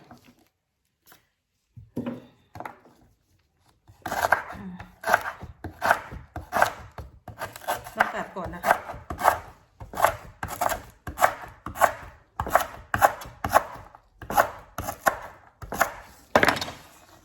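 Rapid, regular knife chops on a cutting board, starting after a quiet few seconds and continuing in a steady rhythm, close and crisp.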